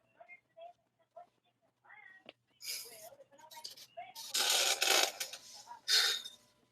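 Cat meows from a cartoon, several short high cries scattered among louder voices and noisy bursts, fairly faint and mixed under other sound.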